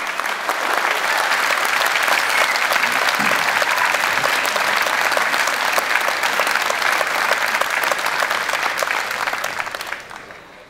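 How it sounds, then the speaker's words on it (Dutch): Sustained audience applause fills a ceremony hall at a medal presentation for UN peacekeeping veterans, dense steady clapping for about ten seconds before fading out at the end. "mag ik nog een hartelijk applaus voor de mensen links van mij"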